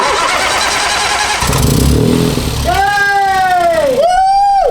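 A Ford Fiesta EcoBoost engine cranks with a rough churning, then catches and its whining revs rise and dip as it settles, loud and close.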